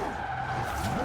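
Tires skid and squeal as a car slides under a yanked handbrake in the Forza racing game, a short, loud scrub with engine tone underneath and no talking.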